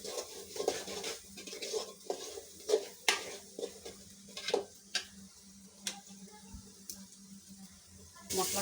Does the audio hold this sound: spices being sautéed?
yes